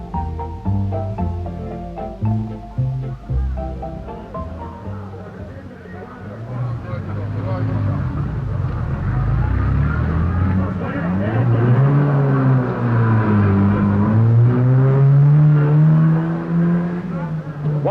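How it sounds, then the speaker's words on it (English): A Rapier rally car pulls away from the starting ramp of an Alpine rally, its engine revving and rising in pitch through several gear changes as it accelerates off, loud and close at first, then held strong. "The next car up, a Rapier, and away they go."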